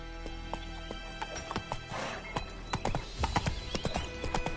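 Roach the horse trots in The Witcher 3 video game, hooves clopping in a quick, even rhythm, close and clear, with a brief whinny-like sound in the middle.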